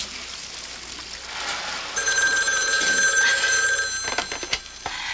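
A telephone bell rings loudly and insistently indoors, a steady metallic trill that starts about two seconds in and runs on, with some splashing and clatter near the end.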